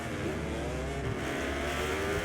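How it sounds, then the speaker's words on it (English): A Ducati racing motorcycle in the MotoGP 24 video game roars past at full power, its steady high-revving engine whine loud and continuous with no talk over it. "And then the power of the Ducati just blasts past me"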